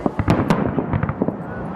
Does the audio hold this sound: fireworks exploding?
yes